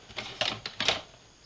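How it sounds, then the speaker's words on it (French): Small scissors snip through card while a folio is being made, four or five quick crisp cuts in close succession, near and fairly quiet. "je vais peut-être prendre les petits ciseaux là"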